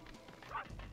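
Dog barking in the N64 game Space Station Silicon Valley, a short burst of quiet, yippy barks and a whimper lasting about a second.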